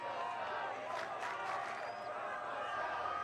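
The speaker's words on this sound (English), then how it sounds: "Crowd getting excited" Crowd at a varsity high school football game, Salesianum versus Episcopal Academy, roaring and cheering steadily throughout, a dense wash of many voices with some shouts rising near the middle.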